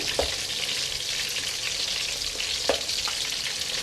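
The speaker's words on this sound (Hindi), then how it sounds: "फिर बाकी के कबाब इसी तरह हम तल लेंगे" Kebabs shallow-frying in oil in a kadai for an Eid chutney kabab, a steady close hiss of bubbling oil with a few sharp crackles and pops, no talking.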